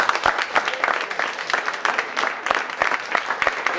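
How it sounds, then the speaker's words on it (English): Audience applause at the close of a debate, a dense spread of claps from a seated crowd that holds steady and fairly loud throughout, with no voices over it. "let's just give one last round of applause to our debaters"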